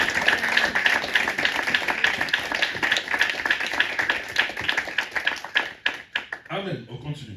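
A church congregation claps in rhythm during a Sunday worship service, steady dense hand claps with singing and voices over them, tapering off near the end.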